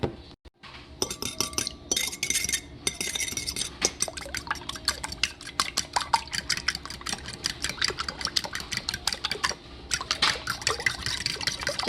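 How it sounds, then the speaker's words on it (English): A fork stirs milk and eggs together in a bowl, giving a steady run of quick, close clinks and light liquid sloshing against the bowl that carries on throughout. "I'm going to go ahead and pour half a cup of milk and just stir that all together."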